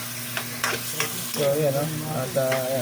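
Vegetables for sotanghon sizzle steadily in a hot pan while being stirred, with a spatula scraping now and then, and a voice talks over the frying.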